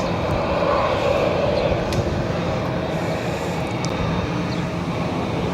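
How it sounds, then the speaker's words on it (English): A Boeing 787-9 Dreamliner airliner bound for Doha gives off a steady broadband engine roar at an airport, loud and continuous with no talk. "this is also a brand new Dreamliner, the Dash 9 variant, looking good, ready to go back to Doha"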